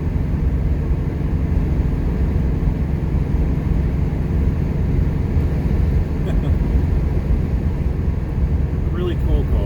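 A 1979 Pontiac Trans Am with a 403 engine accelerating on the road, a loud, steady low engine drone with road and cabin noise that never lets up.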